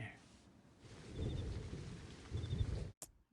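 Steady rain falls as a dense, even patter with a low rumble beneath, swelling twice before cutting off abruptly.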